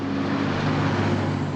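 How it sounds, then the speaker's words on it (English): A truck rolls past in the video game Corpse Party: Blood Drive, a steady low engine rumble with droning tones holding at constant loudness for the short stretch, no voices over it. "Another truck was just about to pass by, and the stones were immediately in its path."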